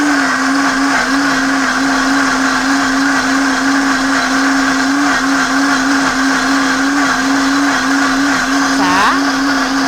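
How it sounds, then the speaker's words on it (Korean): A high-speed blender runs continuously and loudly while blending ABC detox juice, giving a steady, piercing motor whine with a slight wobble in pitch and a brief shift near the end. "이 기계는 단점이 좀 시끄러워요. 왜 그러냐면 초고속이거든."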